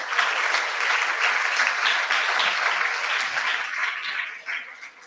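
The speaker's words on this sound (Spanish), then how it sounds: "A María José Comino Rives, un fuerte aplauso, más fuerte el aplauso para ella." Sustained applause from a studio audience at a book presentation during a radio broadcast, an even wash of many clapping hands that fades slightly near the end.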